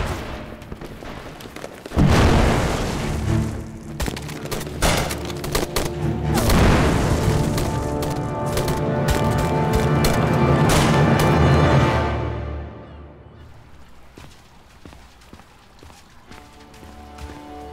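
Bomb blasts in a historical TV drama set around a bank under siege: a deep boom at about two seconds and another heavy blast near six and a half seconds, each followed by long rumbling, crackling debris and commotion before fading into quieter noise.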